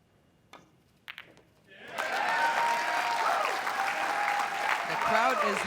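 A crowd at a women's pool match at the 2015 WPBA Masters bursts into sustained applause after a couple of sharp ball clicks, the clapping loud and steady, with a commentator talking over it.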